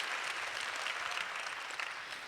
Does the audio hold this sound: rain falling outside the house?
no